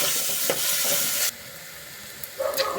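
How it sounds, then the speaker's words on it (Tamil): Onions sizzle and fry in hot oil with green chillies and curry leaves, a steady close crackle with a few stirring clatters, the sizzle dropping quieter partway through before brief stirring sounds pick up again. "பச்சை மிளகாய், கருவேப்பிலை பொரிஞ்சோடனே வெங்காயம் போட்டு வெங்காயம் நல்லா ப்ரௌன் ஆகிற அளவுக்கு வணக்கிக்கலாம்."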